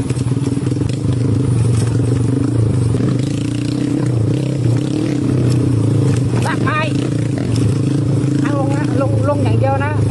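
Honda MSX converted into a dirt bike, ridden along a dusty enduro trail in Yala, its small engine droning steadily and close with throttle surges, occasional scrapes and rattles, and voices partly audible over the noise.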